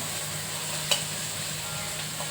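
Onion, tomato, turmeric and spice masala frying in a pan for egg bhurji, a steady close sizzle with one brief clink of a utensil partway through and no talk.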